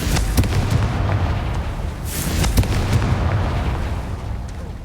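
A Confringo fire spell blast in Hogwarts Legacy, with booming explosive bursts and a rumbling, crackling wash, the loudest hits near the middle, with no talk.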